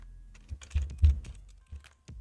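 Computer keyboard typing, a quick irregular run of close, distinct key clicks and thunks with short pauses between bursts, no talking.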